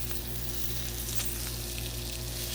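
Wieners frying in a pan with butter, a steady close sizzle and crackle over a constant low hum from the stove, continuing evenly without pauses.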